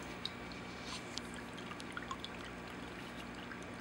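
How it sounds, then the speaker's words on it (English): Air bubbles trickling into an aquarium overflow skimmer box, a quiet continuous watery trickle with small scattered drips and pops, faint and steady. "I'm starting to get noise as the air bubbles trickle into the skimmer box."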